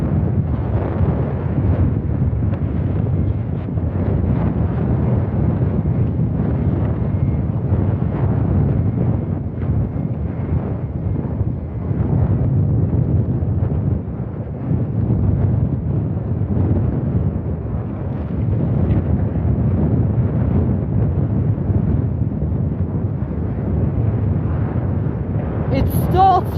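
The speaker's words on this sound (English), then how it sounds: "Let's hear your GNX 1B engines start up." Jet engines, GEnx-1B units on an aircraft at London Luton Airport, starting up: a loud, steady low roar that holds without a break for the whole stretch.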